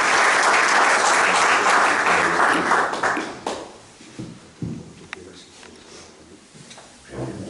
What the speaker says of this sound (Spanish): Vamos a darle un aplauso al poeta Antonio.